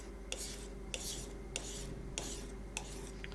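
A Wusthof kitchen knife drawn from heel to tip across a sharpener in steady repeated strokes, each a short bright scrape about every 0.6 seconds over a constant low hum.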